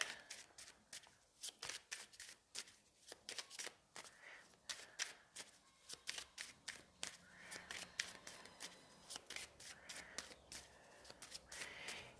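Tarot cards are shuffled close up in quick repeated riffling bursts, a crisp papery flutter that comes and goes in an uneven rhythm, quiet and alone without talking.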